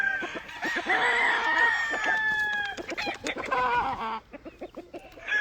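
Yellow-legged peacock roosters on a Louisiana farm crow loudly up close with long drawn-out calls, mixed with choppy clucking, then trail off into scattered short clucks.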